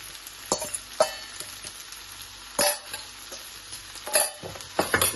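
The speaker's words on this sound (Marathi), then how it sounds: "आनी हांव आतां सुंगटां प्रॉन घाता" Prawns and capsicum fry in a pan for a Goan prawn chilly fry: a soft, steady sizzle broken by several sharp scrapes and clinks of stirring, fairly quiet and close.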